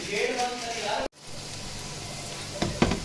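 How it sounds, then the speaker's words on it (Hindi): Onion frying in desi ghee for desi chicken yakhni, a steady sizzle throughout with a brief cut partway and a couple of clinks near the end; someone speaks over the first part. "यहाँ पर मैं कर रही हूँ प्याज फ्राई, देसी घी में बना रही हूँ मैं देसी चिकन की यखनी"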